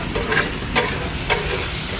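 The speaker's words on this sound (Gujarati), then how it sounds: "કાંદા અને શિમલાને આપણે પૂરી તરફ ફ્રાય કરીશું" Dry onions and capsicum fry together for pav bhaji with whole cumin, giving a steady close sizzle broken by two sharp stirring scrapes.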